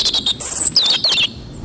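A robin gives a quick series of bright, high chirps and a short warbling phrase, loud and close with no voices.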